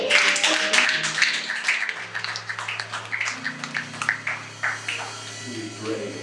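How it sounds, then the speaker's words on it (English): A church congregation claps for the Lord during a sermon service, with steady rhythmic handclaps running under sustained organ or keyboard tones and voices. "Go ahead and give the Lord a hand clap."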